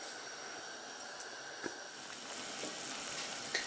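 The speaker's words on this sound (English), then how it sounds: "this is on medium-high heat, and it has like a really rapid boil here" French onion soup at a rapid boil on medium-high heat, a soft continuous hissing bubble with occasional small pops, faint and steady throughout.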